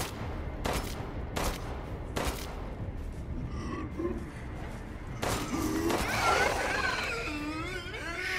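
Gunfire in Resident Evil Village: Shadows of Rose, several sharp shots spaced apart early on, then a busier stretch of game sounds and a voice later.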